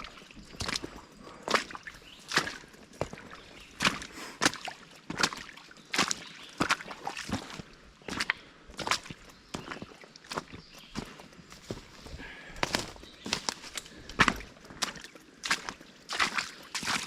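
Footsteps slosh and splash through a shallow creek in an irregular walking rhythm, close and fairly quiet, each step a sharp wet splash over a soft background of running water.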